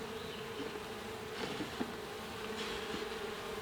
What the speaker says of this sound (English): There's a lot of bees there.